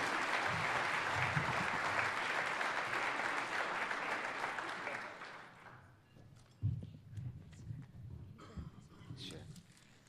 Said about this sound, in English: Let's get a big round of applause for Greg and Rob to come show you the new work.